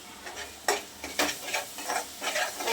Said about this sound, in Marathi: छान असं ह्याला सुद्धा तेल सुटेपर्यंत व्यवस्थित परतून घ्यायचे आपल्याला